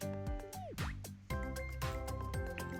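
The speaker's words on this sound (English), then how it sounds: "Next, I'll be adding some water into the pot." Water drips and splashes into a metal cooking pot for steaming Nigerian moi-moi, with plopping sounds and ringing tones rising as it fills, close by and fairly quiet.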